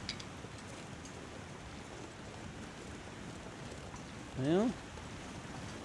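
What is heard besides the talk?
water sounds in video game The Long Dark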